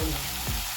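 Tomato sautés with coriander powder in a hot pan for a spicy egg curry, a dense continuous frying hiss close up with a brief stir in the middle, no talking.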